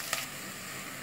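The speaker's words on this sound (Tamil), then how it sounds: "மீடியம் ஃப்ளேம் வச்சாச்சு, அப்படியே நம்ம வதக்கணும்." Onions sautéing in a pan over a medium flame give a steady, close sizzle that holds evenly throughout, with a brief brighter crackle near the start.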